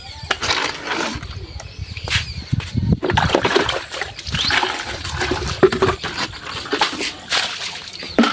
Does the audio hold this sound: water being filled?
yes